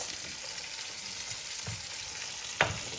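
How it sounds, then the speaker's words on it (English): Steady, quiet sizzling of food frying in a paella pan, with faint crackles and one brief louder clack near the end. "So you need to fry these."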